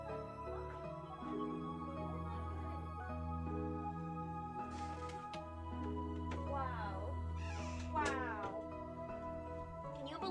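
A pet cat meows repeatedly indoors, its rising and falling cries near and fairly clear, with a few louder calls toward the end, heard over steady background music and occasional talk.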